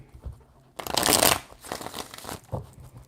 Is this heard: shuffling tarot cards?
yes